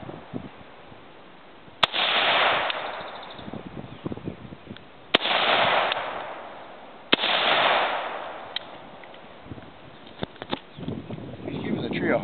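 A handgun is fired outdoors at a target near a tree: three sharp, loud single shots spaced a few seconds apart, each with a short, noisy tail, and people talk between them.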